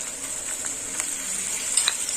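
Half of a spice mix, cooked with chilli and ginger pastes, fries in oil in a pan under gentle stirring, making a constant close hiss with soft scrapes.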